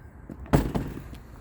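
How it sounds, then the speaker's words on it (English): The entry door of a 2016 Forest River Surveyor 291BHSS bunkhouse travel trailer is opened with a single sharp latch-and-thud at close range, followed by a short rattling tail, alone in a quiet setting. "We'll go ahead and open this door up."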